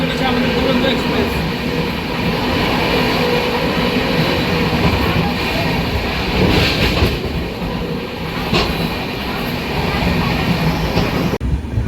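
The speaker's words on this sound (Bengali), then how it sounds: "দুর্দান্ত গতিতে ছুটে চলেছে আমাদের দুরন্ত এক্সপ্রেস।" Puri-Sealdah Duronto Express running at speed, heard from inside as a loud continuous rumble and roar with rhythmic wheel clatter and occasional rattles throughout.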